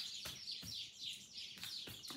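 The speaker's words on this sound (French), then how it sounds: "plein d'oiseaux qui arrivent en même temps, c'est assez marrant" Several small birds chirp and tweet outdoors in quick overlapping bursts, a steady bright chorus with no talking.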